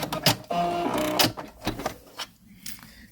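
A sewing machine sews a triple reinforcement stitch in short mechanical bursts, a whirring motor with rapid needle clatter broken by brief pauses and clicks, heard close and alone.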